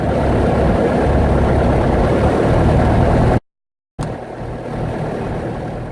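A Grumman aircraft engine runs up with a loud, steady, low roar. The sound cuts to silence for about half a second, then the roar resumes at the same level.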